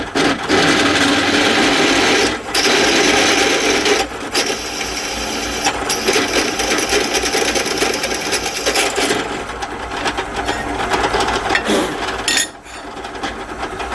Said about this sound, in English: We're going to drill from the underside because it gets rid of the burrs at the same time.